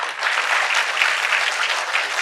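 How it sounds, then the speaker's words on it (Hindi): Audience at the TV9 WITT 2025 summit breaking into sustained applause, a dense, even clatter of many hands, loud and close, with no speech over it. "इस बात पर जोर से तालियां होनी चाहिए"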